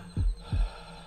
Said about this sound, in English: Why's my heart beating?